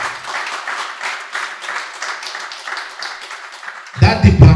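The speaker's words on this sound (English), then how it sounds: "Please, help me give a round of applause to the Burns Plastic and Reconstructive Unit." A round of applause breaks out from a gathered audience at a hospital ministerial visit, sustained clapping of many hands, then a voice cuts in near the end.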